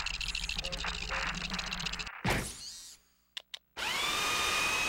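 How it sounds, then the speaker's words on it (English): A mining drill in the Ratchet & Clank game, set on the icy planet Hoven, whirs loudly and steadily for about two seconds, then cuts off and gives way to short clicks and a bright sustained tone. "These dang rocks are too tough. I keep breaking my drill."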